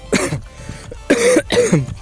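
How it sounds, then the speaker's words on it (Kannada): Three short, harsh coughs close by, the first alone and then two in quick succession after a pause. "ಕೆಮ್ಮು ಬೇರೆ ಗೈಸ್ ಹುಷಾರಿಲ್ಲ ಲೈಟಾಗಿ ಕೆಮ್ಮು"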